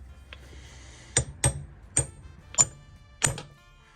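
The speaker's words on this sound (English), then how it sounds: "we're gonna set that rivet" A hammer sets a rivet in a handmade leather axe sheath, with five sharp metallic strikes in an uneven rhythm, close and clear against a quiet background.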